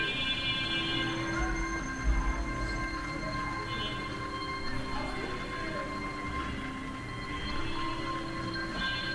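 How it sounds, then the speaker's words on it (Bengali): A metro train rolls past at Diabari with a low rumble and a thin, sustained metallic whine, steady throughout. "এপাশে মেট্রো রেল মেট্রো রেল দেখতে পাচ্ছেন চলে যাচ্ছে"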